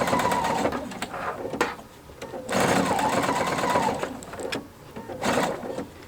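A PFAFF sewing machine fitted with a binder foot stitches bias binding from 2-inch strips, its rapid motor whir running in three close bursts with brief slowdowns between them.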